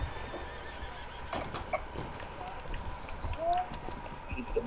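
Horse in a Western-style shooting game letting out a whinny, fairly quiet, with a few hoof sounds and soft game ambience around it.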